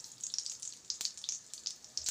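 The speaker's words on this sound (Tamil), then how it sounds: "கடுகு பொரிஞ்சிருச்சு." Mustard seeds crackle and spit in hot oil in a kadai, a dense run of small sharp pops and sizzle lasting about two seconds, close and fairly quiet.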